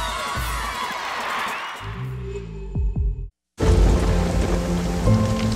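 Rain pours steadily over distant thunder rumbles, cutting out briefly to near silence before a loud, dense downpour returns.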